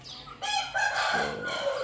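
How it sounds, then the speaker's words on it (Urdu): A rooster crows after being let out of its pen, a single drawn-out harmonic cock-a-doodle-doo at close range, loud and clear with no talk over it. "آج بس نکالا مرغا باہر"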